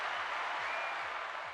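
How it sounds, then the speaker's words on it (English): Applause sound effect of a clapping crowd, a steady dense wash of claps at moderate level running without pause for under two seconds, with no talk over it. "I'm gonna give myself claps whenever I get claps."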